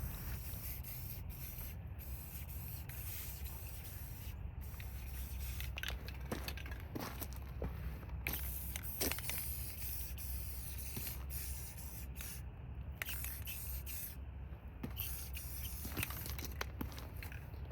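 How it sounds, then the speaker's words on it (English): Brake cleaner hisses steadily from a spray can onto a rag for scrubbing the sealing surface of a harmonic balancer, a continuous close spray with faint rubbing and small clicks mixed in. "A little brake clean on a rag and just a little scrubbing, that sealing surface is clean and good as new."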